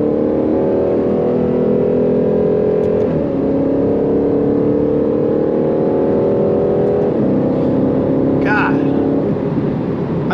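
A 2022 Aston Martin Vantage F1 engine drones steadily and loudly from inside the car while driving in manual mode, with two clear gear shifts breaking the tone as it climbs again.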